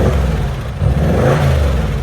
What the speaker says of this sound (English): Does it sound like a V8? Yeah, it does actually. Rev it up.